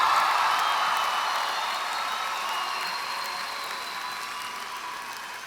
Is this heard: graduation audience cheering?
yes